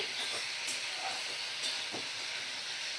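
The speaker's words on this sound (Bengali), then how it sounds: "মিডিয়াম ফ্লেমে রেখেই আমি মশলাটা কষাচ্ছি।" Boiled goat liver fries with spices in a pan over a medium flame, giving a steady, close, even sizzle with a few faint stirring scrapes and no talk.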